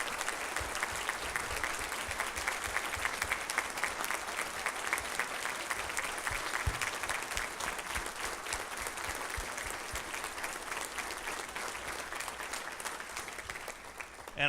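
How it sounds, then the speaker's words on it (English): Concert-hall audience at the Ellis Performing Arts Center in Latta, South Carolina, applauding honoured families during a community chorus event. Dense, even clapping fills the hall continuously and fairly close for about fourteen seconds, with little else heard. "Let's give them a nice round of applause for our family."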